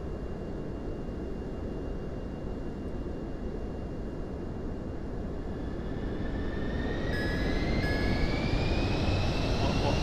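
Airliner engines spooling up for takeoff in Microsoft Flight Simulator 2024, a steady loud broadband roar with a rising whine that climbs in pitch toward the end, with no talk.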